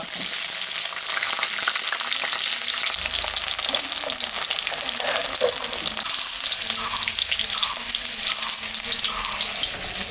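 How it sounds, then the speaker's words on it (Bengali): Eggplant pieces fry in hot mustard oil in a wok, giving a loud, steady, close hiss and crackle that fills the whole stretch, with faint stirring underneath. "বেগুনটা আমি ভাজে নেব"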